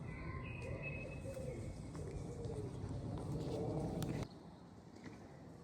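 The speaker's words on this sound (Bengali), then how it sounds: "আবার কি সুন্দর দেখো পাখিতে ডাকতে আছে।" Outdoors among bare trees, birds call softly in the distance, a few thin whistles and low coos over a steady background hiss that drops slightly near the end.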